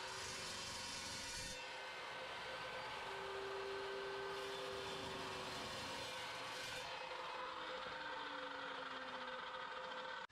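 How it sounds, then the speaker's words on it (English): A metal-cutting chop saw slices through 1/2 inch square brass bar stock, a continuous grinding whine that shifts partway through the cut, steady and fairly close with no talk. "I cut a length of 1/2 inch square brass bar stock to a length of just over 3/4 of an inch in my"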